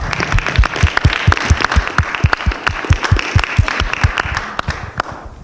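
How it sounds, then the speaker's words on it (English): A university panel audience gives loud, close applause for the panelists, with dense rhythmic clapping that holds steady and then tapers off at the end. "please once again, just give a nice warm round of applause for all the panelists here"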